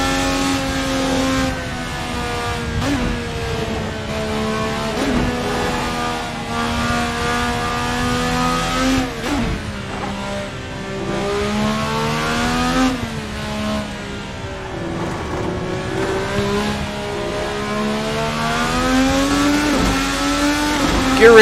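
A 1000-horsepower IndyCar engine screams loudly and continuously, pitch climbing and dropping sharply as it rips through gear changes at high speed on track.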